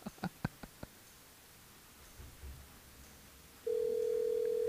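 A telephone line tone on a radio call-in show, a steady tone that starts abruptly near the end after a few faint clicks and thumps and then holds loudly without interruption.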